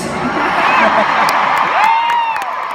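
A large audience at a concert in Atlanta cheers and whoops, with loud overlapping shouts and rising whistles and yells sustained across the moment.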